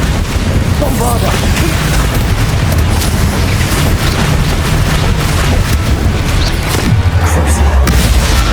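Bombarda explosion spell in Hogwarts Legacy, a loud continuous roar of blasts and crackling debris filling the whole stretch, with a heavy low boom near the end.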